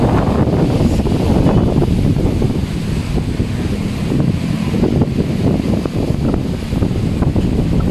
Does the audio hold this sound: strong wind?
yes